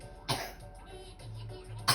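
Two short, sharp coughs, one near the start and another near the end, heard close by over a quiet background with faint murmuring.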